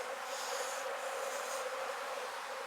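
Honeybees hum steadily in a dense, continuous buzz from an opened hive during a fall hive reduction, close and even throughout with no voices.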